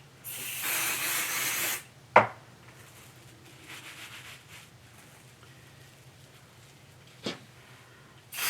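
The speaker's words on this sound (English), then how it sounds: "I spray it right on the Insulbrite, not on the fabric or the batting" Two short bursts of aerosol spray adhesive hiss up close in a quiet room, sprayed onto Insulbrite insulated batting, followed by a couple of sharp clicks.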